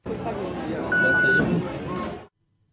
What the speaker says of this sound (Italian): Abbiamo sentito il beep, l'operazione è andata a buon fine